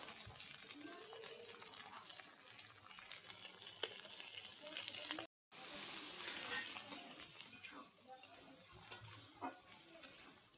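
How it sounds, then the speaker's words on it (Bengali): Salt and turmeric fry in hot oil in a pan, giving a soft, continuous sizzle with faint stirring clinks and a brief gap in the middle. "এবার ভেজে নেবে ভালো করে।"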